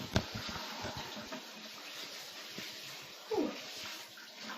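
Water splashing and running in a bathtub as someone rinses off, a steady wash of sound with brief louder splashes, fairly close.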